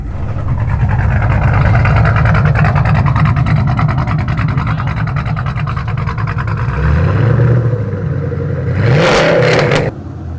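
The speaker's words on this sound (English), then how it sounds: "Can you give us a couple revs?" An LS-swapped New Edge Mustang with a big turbo revs loudly at close range, a sustained droning roar that dips, then rises in two sharp climbing revs before cutting off.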